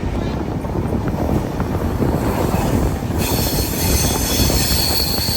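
A train rumbles loudly and steadily as it crosses the Rajahmundry bridge, with dense rattling wheel noise and a faint metallic squeal, heard from on board.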